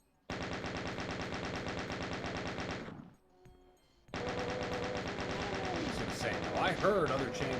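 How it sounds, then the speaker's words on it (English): Doom II chaingunner enemies fire their chainguns in rapid, rattling bursts: a long burst, a brief pause, then another sustained burst with other game sounds layered near the end. "I heard other chain gunners, and I know there's chain gunners here."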